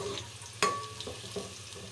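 Onions frying in a pan until lightly browned, a steady low sizzle with a sharper clink of stirring near the start and a few softer scrapes after.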